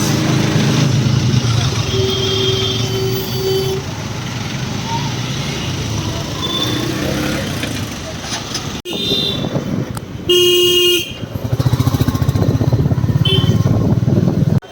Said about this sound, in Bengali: এখন আলিপুরের জ্যামে